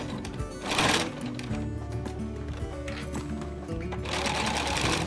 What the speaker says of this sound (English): sew it once more with 1 cm seam allowance on all of the sides.